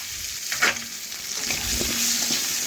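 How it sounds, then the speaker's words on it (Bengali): Potato pieces with salt and turmeric powder sizzle in a hot pan, a constant frying hiss broken by a few soft scraping strokes of a spatula mixing them, close up with no voices. "এই দেখুন এইভাবে নাড়াচাড়া করে মিশিয়ে নিচ্ছি।"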